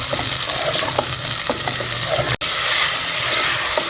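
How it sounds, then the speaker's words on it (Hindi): Chicken browning in a pan over light golden onions for a chicken and bottle-gourd curry, giving a steady close sizzle with scattered stirring clicks and one brief cut-out partway through. "इसके अंदर हम चिकन डाल के जो है चिकन को जो है वो कलर चेंज होने का अच्छी तरह से भून लेंगे।"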